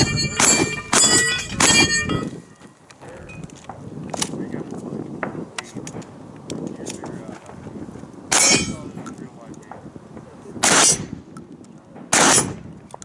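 Pistol shots from a Glock 34 ring off steel targets at a shooting competition, several sharp bangs with metallic clangs spread across the clip, some in quick pairs, over outdoor background noise and occasional voices.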